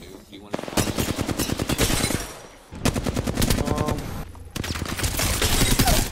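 Sustained bursts of rapid automatic gunfire from the Apex Legends video game, loud and close, coming in three long volleys separated by brief pauses.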